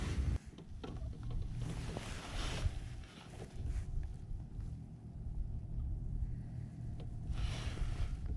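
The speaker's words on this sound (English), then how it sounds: "Got a boat rolling up on us." Low rumble of a boat motor on the water, steady and moderately distant, with wind and light water noise around it.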